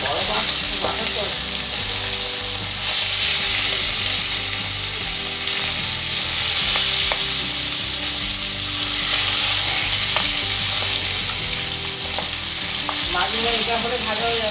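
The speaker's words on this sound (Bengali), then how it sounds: "মাছগুলো এটা করে ভাজা হয়ে যাবে।" Fish heads fry in hot oil in a pan, giving a loud, continuous crackling sizzle with occasional sharp spits and pops throughout.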